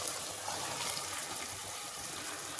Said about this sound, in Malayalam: ചൂടുവെള്ളം ഒഴിക്കുകയാണ്.